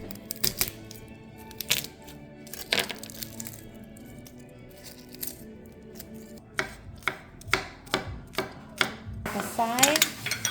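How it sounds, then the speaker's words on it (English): A knife thinly slices garlic cloves on a cutting board, tapping out irregular sharp chops that quicken into a rapid run toward the end, close and clear with no talk. "We are gonna thinly slice some garlic."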